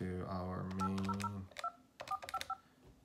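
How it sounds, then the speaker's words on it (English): A Polycom desk phone plays a steady dial tone, then a quick run of touch-tone dialing beeps in two short bursts, close and clear, with no one talking over it. "Let's see if we can have dial tone. You can hear that. And we'll just make a call out to our main."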